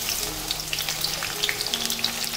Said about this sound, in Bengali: তেলের মধ্যে আমি দিয়ে দেব এবারে পেঁয়াজ কুচি